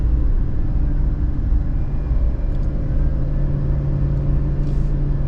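A 2024 GMC Sierra 2500 Denali Ultimate 4x4 heavy-duty pickup pulling a trailer at a little over 2,100 RPM: a steady, loud low engine and road drone heard from inside the cab, holding constant without revving, with no talking.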